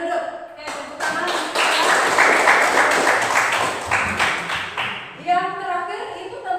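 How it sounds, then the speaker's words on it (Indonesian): Students in a classroom clap together in a burst of dense, close applause lasting several seconds, then it fades and a voice begins talking. "Oke, tepuk tangan."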